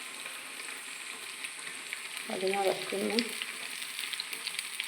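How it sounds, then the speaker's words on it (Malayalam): Masala-marinated beef sizzles and spits as it fries in hot coconut oil, a steady crackling hiss throughout with a brief spoken word partway through. "ചൂടായി വരുന്ന വെളിച്ചെണ്ണയിലോട്ട് നമ്മൾ എന്ത് ചെയ്യുക, തിളച്ച് നമ്മൾ ബീഫിൻ്റെ മസാല തേച്ച ബീഫ് നമ്മൾ കോരി ഇടുകയാണ്"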